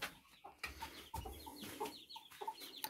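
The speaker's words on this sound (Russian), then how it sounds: "Ну и напоследок же у меня еще здесь же 2 курицы." Hens clucking softly in a coop, short repeated clucks and murmurs scattered across the clip, close but quiet.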